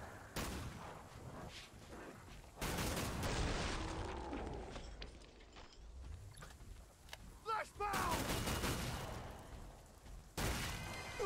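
Sharpshooter gunfire in Killing Floor 2, a run of sharp loud shots and bursts in several clusters over heavy game action, with someone talking loudly in between.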